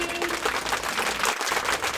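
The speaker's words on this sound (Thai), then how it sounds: "เก่งมากค่ะเด็กๆปรบมือให้ตัวเองกันหน่อย" Kindergarten children clapping for themselves during a class activity, a steady patter of small-hands applause lasting a couple of seconds, fairly close, with a faint voice briefly underneath.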